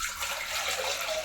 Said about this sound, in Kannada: ಒಂದು ಚಮ್ ನೀರು ಹಾಕೋತಾ ಇದ್ದೀನಿ.